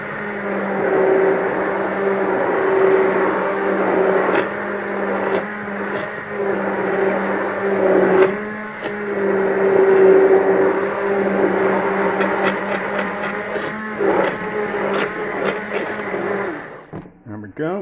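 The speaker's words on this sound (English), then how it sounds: "But the blender's slightly struggling, it's not getting it thinner." A kitchen blender purees leftover vegetable soup thinned with milk, straining a little as it runs in a steady, loud whir for nearly the whole stretch before cutting off at the end.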